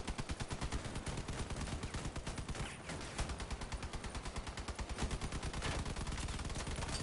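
Dense, continuous gunfire and cannon blasts from a vehicle battle in the video game Crossout, rapid repeated shots hammering almost without pause at high loudness, with a brief dip midway before the barrage resumes.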